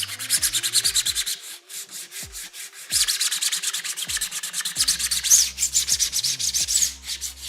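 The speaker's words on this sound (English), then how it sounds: "Just doing a lot of sanding." Rhythmic hand sanding of body filler on a model aircraft, quick back-and-forth rasping strokes in steady bursts with brief pauses, close and fairly loud.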